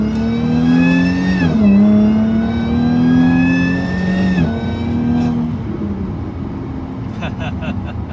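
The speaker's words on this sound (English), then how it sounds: "So you can faintly hear the Supercharger whine there" A stock Jaguar F-Type accelerates with rising engine tones and gear changes, its supercharger whine faint under the engine note. Nearby, with talk in the background.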